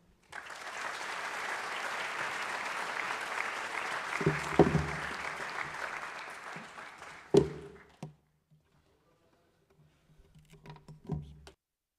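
Audience applause in a school auditorium welcoming a student speaker to the stage, a steady clapping wash lasting about seven seconds, then a thump and a few faint scattered sounds as it dies out.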